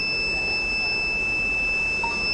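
A theft detection alert buzzer sounds as a continuous high electronic tone over a faint background hum, steady for the whole moment with no talking.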